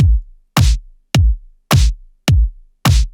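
A simple drum beat alternates kick and snare hits at an even pace, snare on beats two and four, six punchy strikes with short decays, loud and dry.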